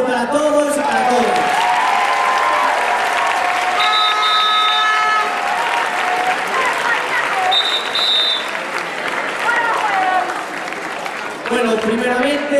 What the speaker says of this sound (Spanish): un aplauso para todos y para todos